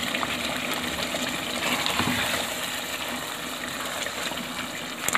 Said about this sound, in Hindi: अब इसमें मैं डाल रही हूँ क्रीम।